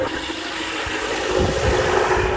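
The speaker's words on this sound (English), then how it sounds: "crank the engine over." A waterlogged 2000 Honda Odyssey engine cranks over in a steady, droning churn that swells slightly partway through, heard close with no talking.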